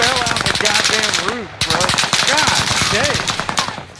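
Rapid gunfire crackles in dense bursts across a video game match on the Caldera map, loud and close, with voices talking over the shooting.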